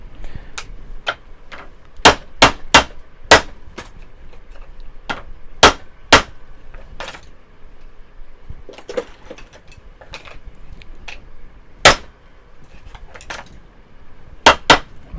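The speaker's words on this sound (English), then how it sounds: "I was using my dead blow hammer." A 1.5-pound dead blow hammer strikes a 3D press while stamping diet forks and spoons: sharp, loud impacts in irregular pairs and singles with pauses between, over a faint background.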